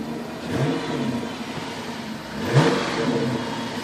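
Chrysler 300C Hemi 5.7 liter V8 on its stock exhaust, blipped twice close by: two quick throaty revs rising over a steady rumbling idle.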